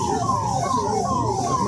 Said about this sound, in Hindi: पीछे एम्बुलेंस है।